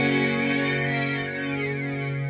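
A guitar effects pedal board plays a sustained synth-style organ or pad tone, steady and rich with harmonics, held alone for a couple of seconds before fading slightly.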